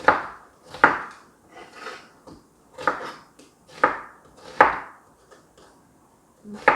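A knife chops onion into thick strips on a cutting board for spicy duck bulgogi, giving about seven loud, crisp, evenly spaced thunks with softer slicing sounds between them.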